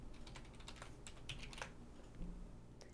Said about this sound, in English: in the URL, I'm going to type tiktok.com